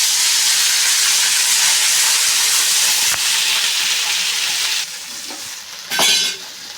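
Noodles for gobi noodles sizzle loudly in a hot pan, a close, hissing fry with steam that eases near the end before a brief stirring scrape, no voices.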